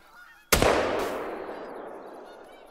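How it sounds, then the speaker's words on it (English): A sharp, loud shot-like burst with a long decaying tail, followed by faint goose honks from a Canada goose in the hunting game Call of the Wild. "there's a goose flying up in the air here"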